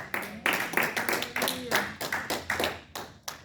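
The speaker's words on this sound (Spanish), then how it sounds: "Dale un fuerte aplauso a tu Dios en esta." A church congregation claps in a steady rhythmic beat, about three claps per second, moderately loud and close, with faint voices mixed in.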